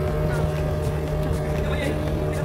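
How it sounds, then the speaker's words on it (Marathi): A motorboat's engine drones steadily on the water as the boat comes closer, loud and continuous, with an even, constant rumble. "आणि आता ही बोट आमच्याकडे जात आहे."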